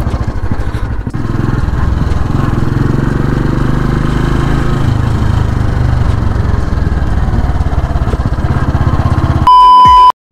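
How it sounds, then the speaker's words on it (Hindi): Motorcycle engine running steadily throughout a ride in the Kullu-Manali area, the bike about 20 years old with some odd engine noises, a continuous loud drone that cuts off near the end with a short electronic beep. "इसके इंजन में भी कुछ आवाज़ें आ रही है"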